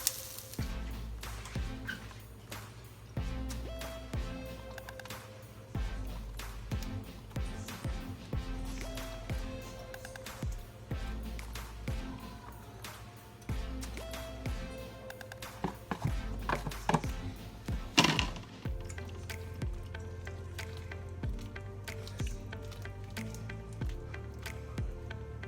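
Food is dumped into a crock pot in a home kitchen, giving a run of wet squishing plops and drips. The sounds are close and moderately loud over a faint background hum, with no talking.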